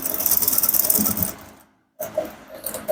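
A sewing machine stitches down fabric on a male senator top, a rapid close mechanical chatter that stops abruptly into a moment of silence before starting again.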